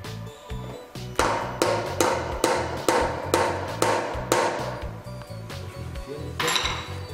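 A hammer drives a nail into a wooden board, landing about eight sharp, ringing metallic blows in a steady rhythm, close and loud.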